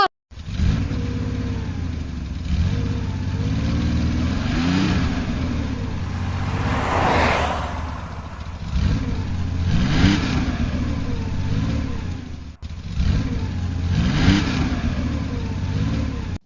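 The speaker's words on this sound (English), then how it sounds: "C for car." A car engine revs repeatedly, rising and falling in pitch over a steady rumble, loud and close, with no voices.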